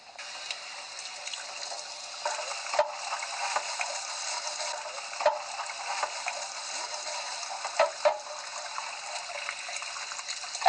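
Scrubbing of three sinks with a scrub brush, soap and running water, heard as a steady wash of faucet water with soft brush rubs and occasional light knocks throughout, with no talking.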